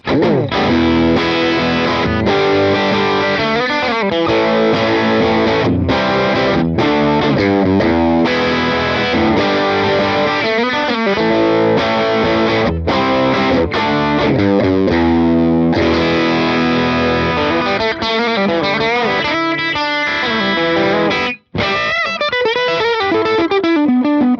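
An electric guitar runs through a Hughes and Kettner Spirit Nano amp head with sag set high and gain at halfway, playing continuous distorted chords and riffs with a brief cutout near the end.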